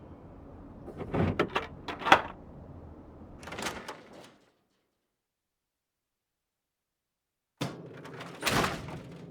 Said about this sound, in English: Let me unlock the door for you.